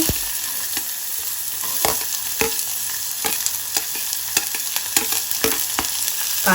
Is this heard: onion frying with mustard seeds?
yes